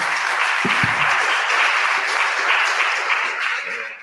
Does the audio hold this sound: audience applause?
yes